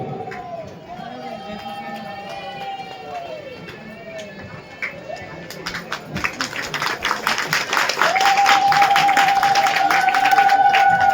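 A speaker talks over a loudspeaker at an award ceremony, then audience applause builds into dense, loud clapping that continues through the end alongside a sustained musical tone.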